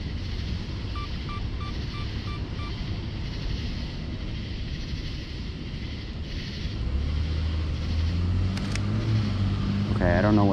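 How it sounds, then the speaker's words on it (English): A car passes on a city street in Raleigh late at night, its engine and tyre rumble building from a low wash of wind and traffic noise to a nearer, louder swell at the end. "Okay, we got a car."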